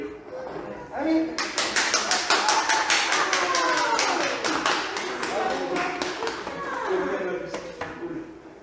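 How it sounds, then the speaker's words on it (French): People at a Gallican-rite baptism in church break into rhythmic applause, with crisp, distinct claps ringing out in the room while voices talk and cheer over and between them. "tout le monde peut t'applaudir"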